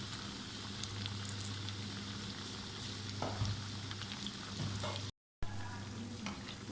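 Aloo tikki potato patties frying in hot oil give a steady soft sizzle with light crackle and a low hum beneath, heard closely, with a brief dropout near the end.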